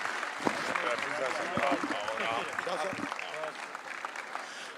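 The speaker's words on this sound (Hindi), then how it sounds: "इनके लिए भरपूर तालियां" Audience applause at a Pakistani poetry and literature festival, dense clapping that swells and tapers over several seconds, with voices speaking over it.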